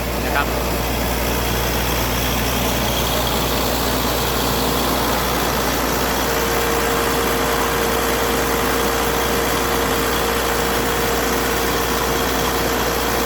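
An engine runs at a steady, droning idle on a raft at a shrimp pond, a continuous loud hum with no breaks for the whole stretch.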